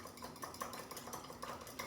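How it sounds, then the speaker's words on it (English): A fork whisks oil and vinegar salad dressing in a small bowl for an apple cabbage slaw, making quick, steady clinking and scraping strokes close up with no talking. "just whisking it well with a fork does fine too."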